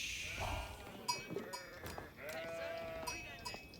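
Sheep bleat in Age of Empires IV, several short, faint calls scattered over a quiet game ambience with light clicks and tones mixed in.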